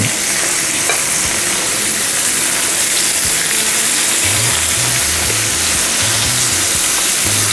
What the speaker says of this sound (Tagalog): Fry lang po natin ang ating bangus belly.